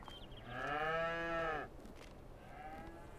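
Cattle in Farming Simulator 22 let out one long, loud, drawn-out moo with a strongly harmonic, tonal quality, then a fainter second call trails off at the end.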